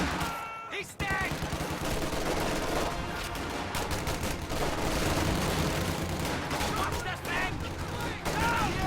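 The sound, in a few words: gunfire and rifle grenades in a video game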